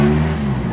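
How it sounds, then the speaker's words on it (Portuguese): A Renault Trafic's carburetted F3R engine idles evenly and up close, a steady low hum lasting under a second. "Funcionamento do motor regular"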